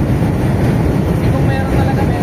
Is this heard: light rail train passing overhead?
yes